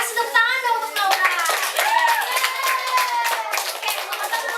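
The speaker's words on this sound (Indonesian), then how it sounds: "Kasih tepuk tangan dong untuk Naura" A group of children clap their hands in a classroom religious lesson, a lively run of sharp claps mixed with children's voices calling out over the whole stretch.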